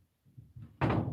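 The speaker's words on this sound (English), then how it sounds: "this cupboard just here, the door was slightly open. So we just closed it just to make sure" A cupboard door pushed shut indoors during a night-time ghost investigation, a few soft creaks and taps followed by a loud, close thump and rattle as it closes, no talking.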